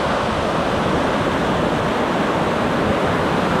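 Ocean waves wash near the shore in a steady, loud, unbroken roar of surf, close by and alone with no voices.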